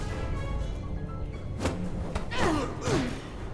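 A judo throw lands in the video game Star Trek: Resurgence with a single dull thud midway, followed by short strained grunting vocal sounds over a low, steady game background.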